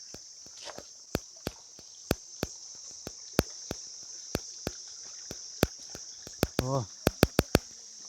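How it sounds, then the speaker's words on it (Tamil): Steady insect chirping fills a forest near a waterfall, a continuous high buzz throughout, overlaid by repeated sharp clicks like footsteps and a brief voice. "அந்த பூச்சி சத்தம்லாம் கேட்குதா?"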